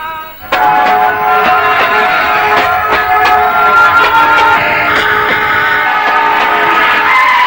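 A train runs along a nearby railway track, a loud, steady rumble with tonal horn-like ringing that swells over several seconds, close and dominant with no voices.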